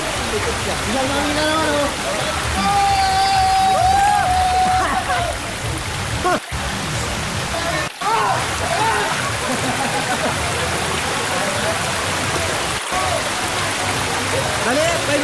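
Waterfall at Balete Falls roars steadily in the background while people talk over it, with a few brief dropouts in the rushing water noise.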